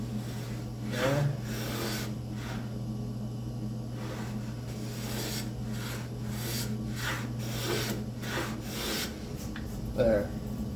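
A hand plane takes slightly heavy shavings from a wooden back panel for a spice rack, giving repeated rasping strokes close by over a steady low hum.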